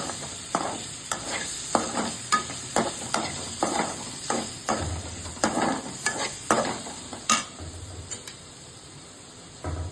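Prawns sauté in butter in a pan, with a close sizzle broken by a regular run of stirring scrapes and taps that slows toward the end.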